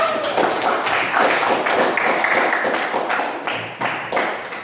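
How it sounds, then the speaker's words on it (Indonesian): A crowd claps together in a dense, steady burst of applause lasting several seconds, fairly loud and close, with no talking over it. "Mantap sekali, tepuk tangan lagi."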